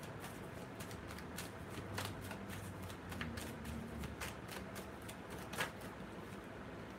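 Tarot cards are shuffled and pulled close by, giving a run of crisp, papery riffles and flicks with sharp, irregular snaps over a low room hum.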